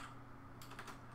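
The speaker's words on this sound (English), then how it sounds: "I'll type out the steps here." Keystrokes on a computer keyboard, typing in quick bursts that grow denser in the second half, close and fairly quiet with no speech.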